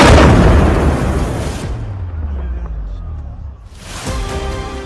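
A big explosion near Nakhchivan International Airport booms loudly, its blast rumbling and fading over a few seconds before another surge of noise follows.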